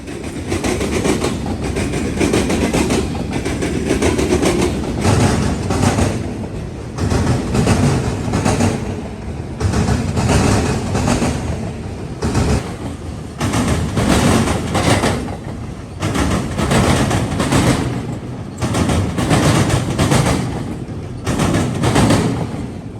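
A freight train rolls past a trackside railfan in Central Ohio, loud and close, with a continuous rumble and rhythmic clickety-clack of wheels over rail joints throughout.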